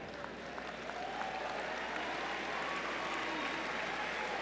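Sustained audience applause at a university undergraduate commencement ceremony in a large hall, a broad steady roar of clapping that swells slightly and holds, with a faint voice or tone drifting underneath.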